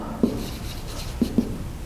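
A few brief scratchy strokes of writing on a board during a university engineering lecture, faint and close, three short marks spread over a quiet room.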